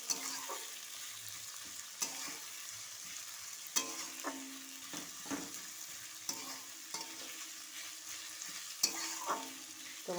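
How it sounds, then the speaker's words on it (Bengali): Onion fries for ghugni while being stirred in a pan, a constant quiet sizzle broken every couple of seconds by a spatula scraping across the pan. "পেঁয়াজটা ভাজা ভাজা করব।"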